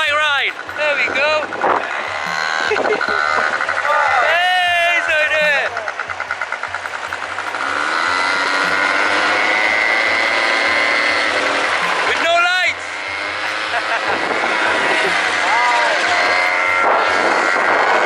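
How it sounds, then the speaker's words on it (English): A motorbike ridden at night in Marrakesh, its engine droning and revving in rising and falling sweeps with wind noise, loud and close, while people talk over it at intervals. "Just going for a night motorbike ride."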